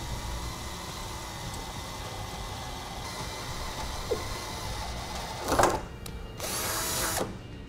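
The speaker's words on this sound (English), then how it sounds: "We'll then take our drill and drill both holes." A power drill whirs steadily drilling holes in a 2007 Chevrolet bumper under constant background noise, then bursts louder for a couple of seconds near the end.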